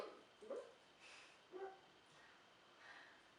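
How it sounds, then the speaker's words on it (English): A dog barks faintly and far off, giving a few scattered barks against a quiet hiss, with no one talking. "this dog is not stop barking"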